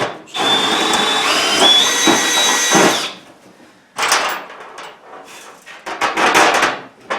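A power drill whines loudly for about three seconds, stops, then bites in again in several shorter bursts with rattling and knocking, up close, drilling bolt holes in a potting bench built from a wagon.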